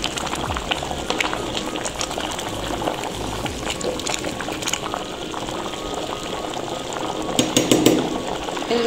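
Basmati rice cooks in a pot of boiling water for a spiced Comorian mandi rice dish, a steady bubbling, watery rush close by with occasional louder splashes near the end, no voices.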